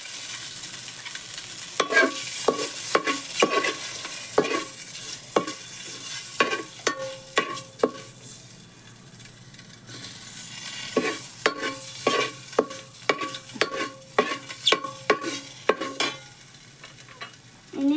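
Quail egg masala frying in a pan while a spoon stirs it, giving a soft continuous sizzle broken by frequent sharp scraping clicks of the spoon against the pan, close and steady with no voices.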